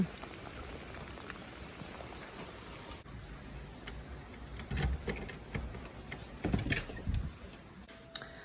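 Steady rain pattering on surfaces, with scattered louder drips and splashes standing out toward the end.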